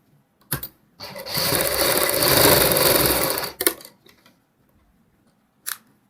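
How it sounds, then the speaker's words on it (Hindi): Sewing machine stitching a ready-made saree, a brief start followed by a loud, steady run of about two and a half seconds, then short bursts with quiet gaps between them. "ऐसे ऊपर की साइड सिलाई लगाएंगे। इस सिलाई को हम डबल कर लेंगे।"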